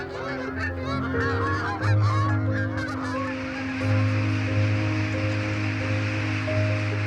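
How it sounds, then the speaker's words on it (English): Canada geese taking off on the Nevern estuary in Pembrokeshire honk in a dense, overlapping chorus, loud and close at first, then fading into a steadier background of calls and rushing noise. "These Canada geese are taking off on the Nevern estuary in Pembrokeshire."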